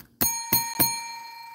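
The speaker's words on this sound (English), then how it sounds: "Got my dinner bell here too." A smiley-faced dinner bell struck three times in quick succession, each bright metallic ding ringing on and slowly fading, close and alone.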